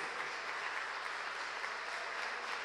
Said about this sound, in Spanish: a quien le brindamos este caluroso aplauso